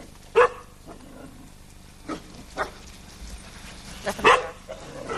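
Black dogs at a lodge give a few separate barks, a sharp close one near the start and fainter ones later, over a quiet background.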